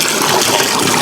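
Water from a garden hose gushing into a 100-gallon DIY propane hot tub, a loud, close, continuous rush with no talking.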